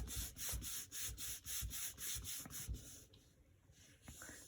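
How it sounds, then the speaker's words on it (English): Paper is rubbed firmly by hand over a gel printing plate to transfer gel stick and watercolor crayon color onto cardstock, making brisk, rhythmic, close scrubbing strokes that ease off toward the end. "we are going to really rub it firmly all around"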